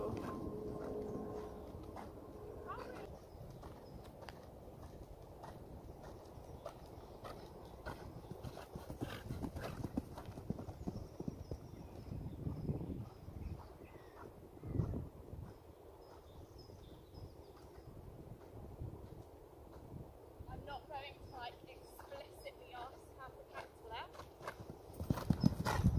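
A horse's hooves canter in a steady three-beat rhythm, moderately close, while people talk and exclaim excitedly over them.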